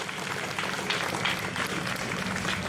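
A crowd at a trans pride march in Melbourne applauds, a dense, steady wash of clapping that holds from start to finish at moderate distance, with no voices standing out.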